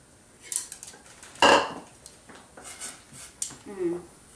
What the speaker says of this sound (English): And now all the vegetable that we've chopped goes in